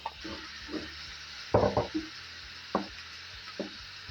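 Diced zucchini sautéing in a pan for a cheese-filled meatloaf, with a few distinct stirring scrapes and clatters over a soft background sizzle, close and moderate.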